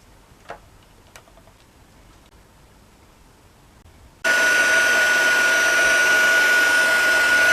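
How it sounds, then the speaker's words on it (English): A heat gun switches on abruptly after a few quiet seconds with faint ticks, then blows a loud, steady whooshing roar with a high whine while heating gold embossing powder on a card. "heat emboss with some gold embossing powder"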